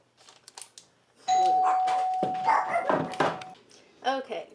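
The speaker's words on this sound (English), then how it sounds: "disturbed by the bell" A home doorbell rings once with a sustained, clear electronic tone lasting about two seconds, while a dog barks nearby over and after it, with quiet talk before.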